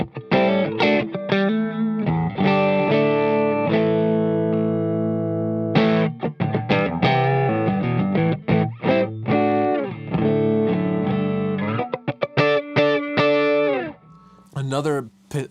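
Electric guitar with hot, humbucker-style pickups that clean up nicely, playing a mix of sustained chords and choppy single notes through effects. Loud, steady playing with brief gaps, and a pause and sharp accents near the end.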